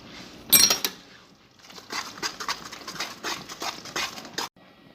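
Melted butter, sugar and baking soda stirred in a pot, with irregular scraping and light knocking of a utensil against the metal, preceded by a sharper clatter.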